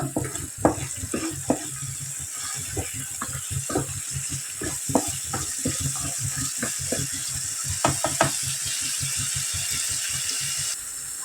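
Masala for a corn cob curry sizzles and fries in oil while being stirred, with a busy run of scraping, clicking strokes close by and no talking.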